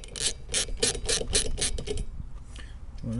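A hand ratchet clicks in quick bursts as it loosens a bolt during removal of a car's front shock absorbers, close and clear, then slows and falls quiet.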